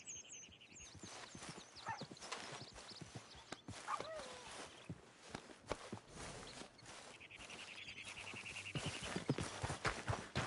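Horse hooves clip-clop steadily on the ground in the Red Dead Redemption 2 video game, with occasional whinnies and birdsong in the background.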